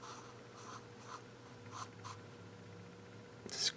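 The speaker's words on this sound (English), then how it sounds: "Just quickly render that in your pencil." Graphite pencil sketching on paper while drawing a cartoon Grinch in a Santa collar, heard as soft intermittent scratchy strokes in short bursts, close and quiet with no talking.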